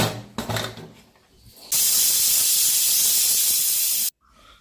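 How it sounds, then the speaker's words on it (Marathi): A pressure cooker holding an eggplant and potato curry vents steam, a loud, steady hiss that bursts in after some faint clatter, holds for a couple of seconds, then cuts off abruptly. "कुकरला एक शिट्टी काढून घेऊया।"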